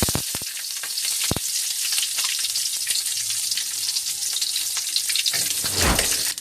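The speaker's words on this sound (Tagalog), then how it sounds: "Haluin lang natin ang sibuyas hanggang sa maluto ito." Chopped white onions sizzle and fry in hot oil for a pork steak, a steady loud crackle over the whole stretch with occasional sharper scrapes of stirring near the end.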